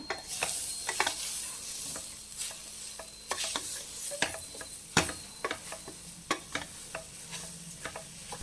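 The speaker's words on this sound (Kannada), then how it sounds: "ನೆಕ್ಸ್ಟು ಹುರ್ಕೊಂಡಿರ್ತಕ್ಕಂಥ ಕ್ಯಾರೆಟ್ನ ಹಾಕ್ಕೊಂಡು ಮಿಕ್ಸ್ ಮಾಡ್ಕೊಳ್ತಿದ್ದೀನಿ" Grated carrot is stirred in a frying pan for carrot halwa, with irregular scraping and clinking strokes of the spoon over a soft, steady sizzle, close and without voices.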